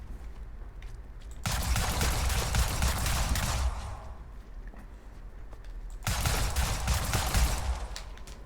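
Gunfire in the video game Luna Abyss, two long bursts of rapid crackling shots separated by a quieter pause, moderately loud with no talk.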